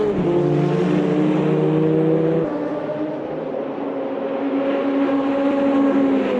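Several GT1 race cars racing at Le Mans in the video game AMS2, engines droning loudly and steadily together, with pitch shifts as one car changes gear and others hold their note.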